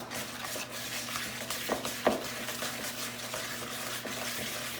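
Brown sugar being mixed into cookie dough in a bowl, with continuous scraping and stirring and a couple of sharper knocks of the spoon against the side.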